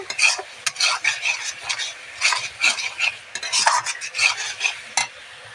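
Spices sautéed in oil with turmeric powder for doi rui, with quick, rhythmic spatula strokes scraping and clinking against the pan over a light sizzle, close and loud, with no talk.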